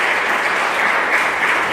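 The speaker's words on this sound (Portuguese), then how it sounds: "dê uma salva de palmas" A church congregation gives a round of applause during a sermon, dense and even clapping that stays loud and continuous throughout the short stretch.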